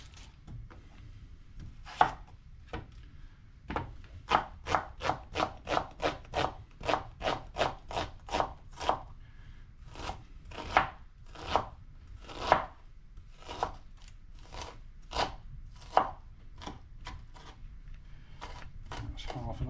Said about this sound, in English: So all I'm going to do is chop this up quite finely into small little chunks.